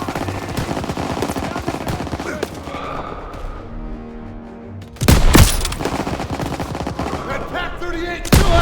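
Rapid machine-gun fire and scattered shots crackle through a Call of Duty WWII battle in a video game, loud and close, with a sharp surge of heavy fire midway and in-game voices mixed in.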